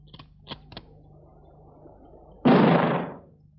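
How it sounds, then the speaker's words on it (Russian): A single sharp, loud rifle shot bursts out after a few faint clicks and a quiet stretch, then decays over about half a second. "Так, значит, выстрел был из ружья."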